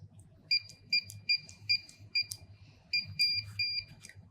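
USAutomatic wireless gate opener keypad giving a series of short, sharp electronic beeps and button presses at close range, several quick tones in a row over faint background noise.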